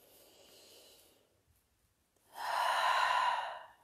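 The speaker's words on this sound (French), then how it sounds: "Inspire, expire." During a guided meditation, a single quiet breath in is followed after a pause by a longer, louder breath out, close and soft with no talking.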